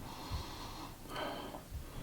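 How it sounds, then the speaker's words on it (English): Close, audible sniffing at a glass of blueberry cream ale beer, a couple of short nasal snorts and breathy inhalations against a faint hiss, with no talk. "before we do it, we'll get a sniff"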